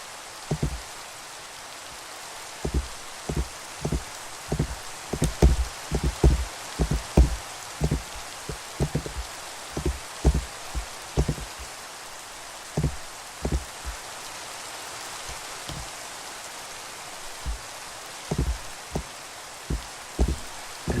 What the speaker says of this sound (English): And it's raining! Yay, we love it when it rains.